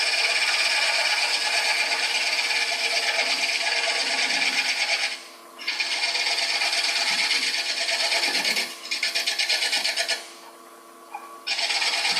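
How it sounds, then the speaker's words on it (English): A shear scraper working wood on a lathe at a woodturners' meeting, a loud continuous raspy scraping with two brief pauses, close and alone. "little scraper, a shear scraper, using the lowest third of the tool"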